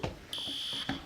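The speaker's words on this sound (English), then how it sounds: "Sounds like a fire alarm." Fire alarm sounding in a school hallway: a steady, piercing electronic tone cuts in and holds for about half a second, with a short burst just before and after, at moderate loudness.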